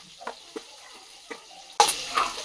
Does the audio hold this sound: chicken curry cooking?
yes